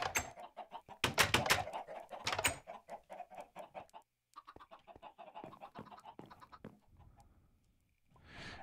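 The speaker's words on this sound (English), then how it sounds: "Chicken's there." Chickens in the video game Minecraft, a series of close, bursty clucks and squawks in uneven clusters, with quieter gaps between and a final cluck at the end.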